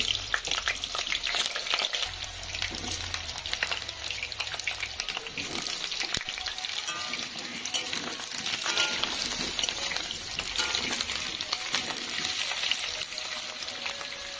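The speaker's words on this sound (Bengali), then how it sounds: "তেলটা ভালোভাবে গরম হয়ে গেছে, এখন আমি কেটে রাখা আলুগুলি তেলের ওপরে দিয়ে দিচ্ছি।" Cut potatoes sizzle loudly and continuously in hot oil in a kadai, a dense crackling hiss that stays fairly even throughout.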